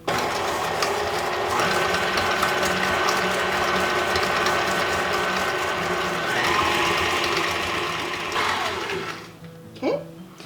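An electric hand mixer beats ingredients for an orange cranberry quick bread until they turn creamy and airy. It gives a steady, loud, gear-driven whir for several seconds and then winds down and stops.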